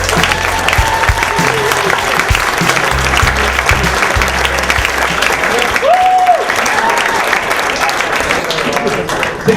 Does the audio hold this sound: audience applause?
yes